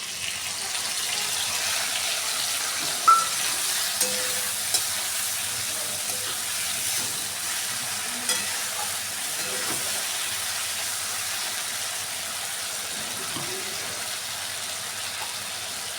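A water-soaked paste of ground coriander, cumin and turmeric frying in a pan for a vegetarian dish, a steady hiss and sizzle with occasional stirring clinks and scrapes, close up and without voices.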